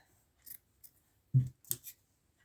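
Scissors cut fabric strips for a braided rug, a few crisp close snips with short pauses between them and no talking.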